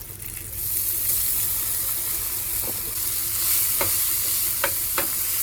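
Raisins and sugar fry in a pan before soaked flattened rice is added, giving a continuous, even sizzle with a few light stirring taps; no speech.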